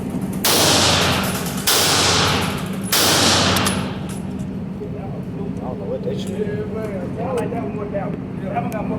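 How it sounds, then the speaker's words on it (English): Three loud pistol shots at a gun range, evenly spaced about a second apart, each ringing out sharply before a quieter stretch in which people talk. "I'm gonna let Lonzo and Sleeve shoot these"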